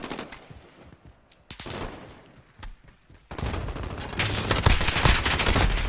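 AK rifle fire in Warzone, with sharp shots and short bursts rising from sparse cracks to a dense, loud exchange of near gunfire.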